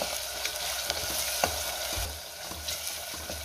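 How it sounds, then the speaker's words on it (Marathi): Onion and ginger garlic paste are sautéed in a pan, giving a continuous close sizzle. Scattered scrapes and taps from stirring come through, and nobody talks. "त्यात आता आपल्याला आले लसणाची पेस्ट घालायची आहे आणि पुन्हा 1 मिनिटभर चांगलं परतून घ्यायचंय"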